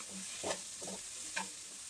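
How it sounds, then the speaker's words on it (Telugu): A spoon stirs garlic chili powder into amaranth greens frying in a pan, giving a few soft scraping strokes over a steady low sizzle. The sound is quiet and close, with no voices. "నేను వచ్చేసి వెల్లుల్లి కారం కలుపుతున్నానండి"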